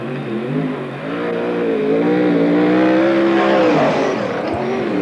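A sprint car at a NARC race in Marysville, California, drives the high side of the track, its engine a loud, sustained harmonic drone that climbs and holds in pitch as it circles, with no voices.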